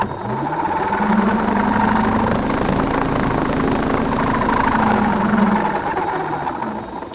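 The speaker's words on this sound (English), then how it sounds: "the motor is turned on here with this switch" Electric motor of a Sunseeker Duo aircraft running steadily, a constant mid-pitched whirring hum with a strong tonal drone that rises slightly and holds, loud and close, with no talking.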